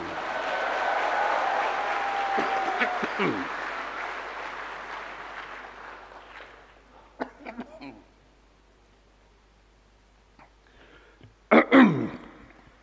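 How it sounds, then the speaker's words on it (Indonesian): Applause from a large audience of teachers and school principals fades out, followed by a few short, sharp coughs from a man, a pause, then one louder, closer burst of coughing near the end. "Batuk karena semangat."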